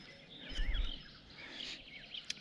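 Small birds chirp and trill faintly in the open air beside a pond while someone fishes for crucian carp and tench among young reeds, short bright calls scattered over soft background hiss.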